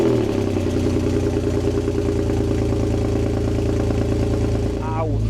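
A Porsche 996 engine runs loud and rough close by on a cold start, a throaty continuous exhaust drone with a clattering idle that shifts slightly near the end.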